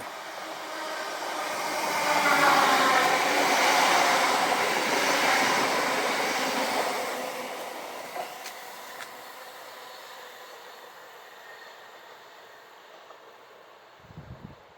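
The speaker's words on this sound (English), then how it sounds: "So we've got a train coming." A train rumbles past at moderate distance near a roundabout in Stirling, Scotland, swelling to a broad roar and then slowly fading away, with a brief thump near the end.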